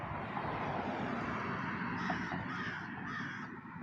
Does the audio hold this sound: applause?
no